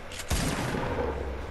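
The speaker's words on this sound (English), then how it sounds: "I hear shooting guns fire pop off." Gunfire erupts in a Fortnite match: a sharp, loud burst of shots near the start, then a dense run of rapid popping that keeps going to the end.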